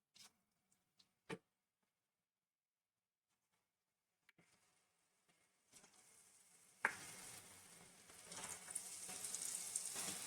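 Mushroom pakoras fry in hot oil, a faint hiss that starts out quiet with a few knocks, then swells after about six seconds into a steady, fairly close sizzle with no talking.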